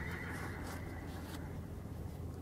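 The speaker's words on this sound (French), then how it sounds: "Cheval." A horse whinnies in a drawn-out, wavering neigh that is faint and distant, set against a steady noisy background with no talking.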